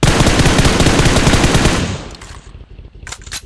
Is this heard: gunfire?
yes